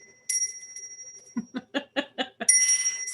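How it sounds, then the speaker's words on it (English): A small sales bell rings brightly at close range, one sustained ding, then a burst of soft laughter, then another clear ring at the end. "So it's a sales bell. Just to ring and have fun."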